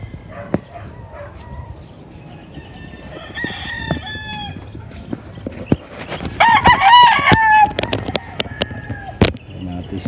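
Roosters at a breeding farm in the Philippines crow repeatedly, several long calls overlapping with clucks and sharp bursts, while a dog barks briefly and someone talks nearby.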